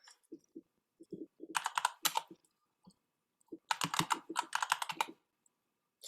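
Computer keyboard typing in two bursts of rapid clicking keystrokes separated by a pause, with softer scattered taps around them, close and clear with no talk.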